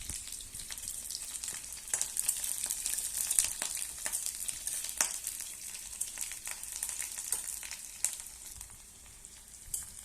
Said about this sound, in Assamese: শুকান জলকীয়া আৰু পিঁয়াজ দুটা কেঁচা জলকীয়া দি দিছোঁ। এতিয়া ধুনীয়াকৈ পিঁয়াজটো অলপ ৰঙা হওক।